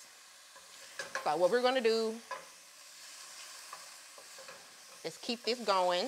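Taco spaghetti stirred in a sizzling pan, the frying hiss running steadily in the background while a person talks over it through most of the stretch.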